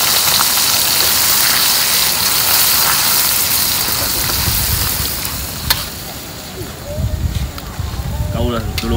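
Loud, steady sizzling of a blended spice paste frying in hot oil for fish curry, with occasional stirring clatter and a voice speaking briefly near the end.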